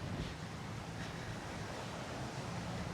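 Intense ocean surf breaking on a wide, near-empty beach at Huatulco, Mexico, a steady loud wash of waves with wind buffeting the microphone throughout.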